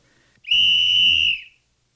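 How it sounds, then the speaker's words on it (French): A referee's whistle gives a single sharp, high blast on the ice at a hockey game, loud and clear for about a second, then stops abruptly. "au coup de sifflet de l'arbitre,"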